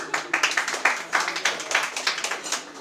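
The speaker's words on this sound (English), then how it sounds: "I want you guys to give yourself like a real fucking hand of applause" A small comedy club audience claps briefly. The sound is a few loose, uneven bursts of hand claps close by, with a chatty voice or murmur underneath.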